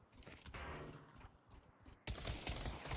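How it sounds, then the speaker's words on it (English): Gunfire traded between two teams in a competitive match of the VR shooter game Pavlov: dense bursts of rapid shots that swell into a louder, continuous volley near the end. "We're seeing a lot of gunfire being traded out between these two teams."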